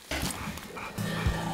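A dog barks and yelps during a hog hunt outdoors, a few short sharp calls heard at moderate distance over background noise.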